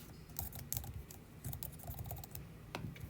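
Quick, light typing on a computer keyboard, with irregular bursts of soft clicking keystrokes close by and no talk.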